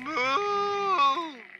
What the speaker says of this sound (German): Hier steht sogar eine Kuh.